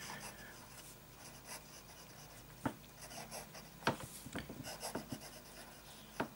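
A fountain pen with a fine nib scratches across paper in soft, close strokes, with quiet scraping punctuated by a few sharper ticks as the nib lifts and lands.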